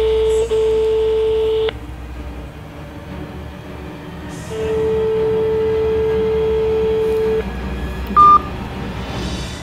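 A telephone keys a short three-digit number with steady dial tones, then long ring tones sound clearly with a brief pause between them, with no voices over them.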